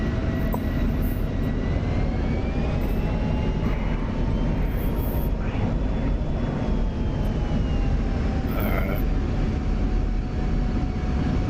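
An F-16 Viper jet engine on an aircraft carrier in the DCS flight simulator drones as a loud, continuous roar with a faint whine that slowly rises and falls, with occasional brief higher-pitched sounds layered on top.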